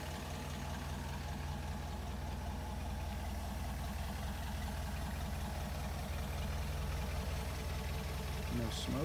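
A 1959 Land Rover Series II idles steadily after a cold start on choke, a close, even, low mechanical rumble that holds unchanged for the whole stretch.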